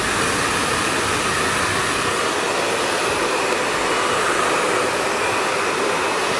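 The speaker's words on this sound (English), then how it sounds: "to blow dry it back" Hair dryer blow drying a bob hairstyle, a loud continuous roar held steady and close for several seconds with no talking.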